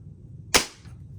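A single sharp, fairly quiet crack of a pest-control air gun fired outdoors in the woods, a short snap with a brief decaying tail, alone against faint background noise.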